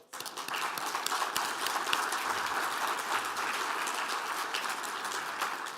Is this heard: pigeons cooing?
no